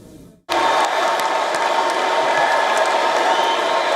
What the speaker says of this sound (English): Deafening cheers greeted Barack and Michelle Obama.